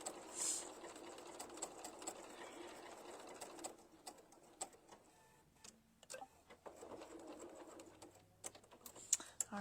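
A sewing machine works a blanket stitch on a tabletop banner, running in quiet, uneven bursts of rapid mechanical ticking with short pauses between the left and right bites.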